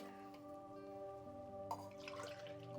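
Water poured from a tumbler into a pot while making peas pulav, a steady trickling, dripping pour under a faint hum, rising briefly toward the end.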